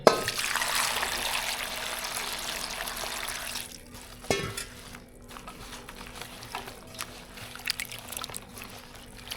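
Water is poured over half a kilo of green chillies and 300 grams of lemons in a kadai to wash them for pickle: a steady, bright hissing pour for the first few seconds, then quieter scattered splashes and clinks.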